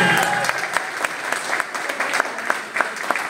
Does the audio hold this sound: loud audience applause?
yes